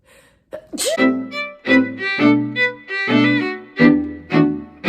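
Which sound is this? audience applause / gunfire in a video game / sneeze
sneeze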